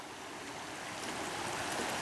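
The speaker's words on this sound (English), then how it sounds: "Alright, do you hear the creek?" Creek flowing below a wooded bank at night, a steady broadband rush of running water, even and fairly soft, with no voices.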